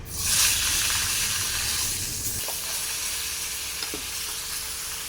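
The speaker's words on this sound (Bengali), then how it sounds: "এখন এই মাছগুলো ভেজে নেব" Mourala fish coated with lemon juice frying in hot oil in a home kitchen, giving a loud, continuous crackling sizzle that swells early and holds steady throughout, with no talking.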